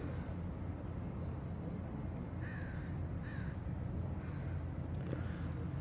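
A crow outdoors gives a few short caws spaced across a few seconds, set against a constant dense rumble of background traffic or city noise.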